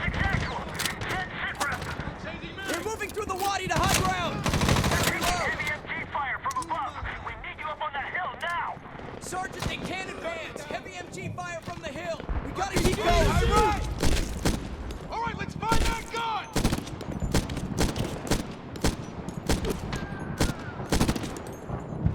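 Bursts of automatic gunfire and sharp bullet impacts in the video game Medal of Honor, dense clusters of shots with louder bangs, mixed with game effects and someone talking over the action.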